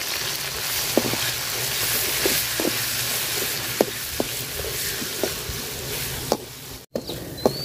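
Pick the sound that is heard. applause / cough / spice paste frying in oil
spice paste frying in oil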